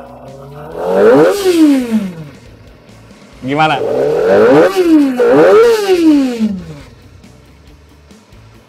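A Kawasaki ZX-25R ABS SE 250cc four-cylinder sport bike revs in two loud bursts that rise and fall sharply over a high idle near 2000 RPM, with a brief spoken word in between.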